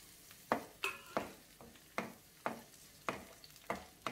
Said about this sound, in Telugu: ఇప్పుడు క్యాప్సికమ్ వేసుకుందాం.